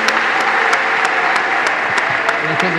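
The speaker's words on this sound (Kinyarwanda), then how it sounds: "Amashyi menshi." Sustained applause from a church congregation at a farewell ceremony for a bishop of the EAR Cyangugu diocese, steady and dense with a few voices mixed in.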